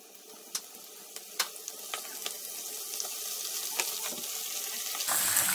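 Liver pieces fry in hot oil in a pan, giving a quiet, steady hiss with scattered sharp crackles and pops, and the sound grows slightly louder toward the end.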